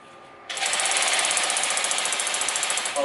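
A drill bit hammering under firm pushing: a sudden loud start into rapid, continuous ratcheting impacts with an even pulsing rhythm, then a brief break near the end.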